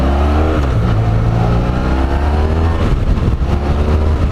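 A Honda VFR1200F motorcycle with 25,000 miles revs hard and loud up close, its engine note climbing and falling in a continuous, raspy roar.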